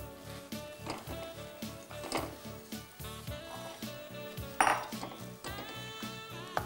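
A spoon scrapes and knocks against a cooking pan as a mixture is stirred off the heat, a steady run of close clinks and scrapes with a sharper clatter near the middle.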